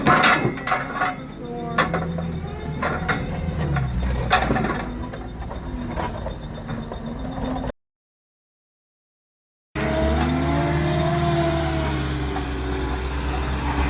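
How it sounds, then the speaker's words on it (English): A loader rips apart a demolition derby car to pull out its roll cage, sending up loud, continuous grinding, crunching metal and mechanical clatter. There is a brief silent gap, then the heavy machinery drones on. "So he brought in the loader to rip it apart and pull the cage for his next build."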